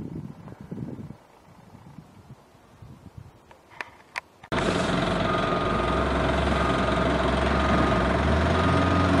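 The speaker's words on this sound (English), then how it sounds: "This will be ground with the Hogzilla grinder" A Hogzilla tub grinder chews through pretty large tree stumps. A low, quiet stretch gives way to a sudden, loud, continuous grinding roar that holds steady to the end.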